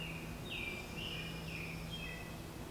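Outdoor birdsong: a single bird whistles a few thin, clear descending notes at moderate distance over a steady low hum, with no talking.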